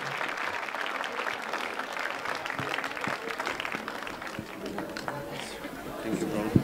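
An audience in a church claps and applauds steadily for several seconds at a moderate distance, a dense patter of hands with a little crowd murmur underneath, rising slightly near the end.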